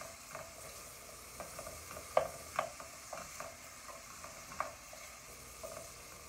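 Celery and other aromatics sizzle quietly in a hot pan, a soft steady hiss broken by a few light clicks and scrapes of a stirring utensil, with no talking.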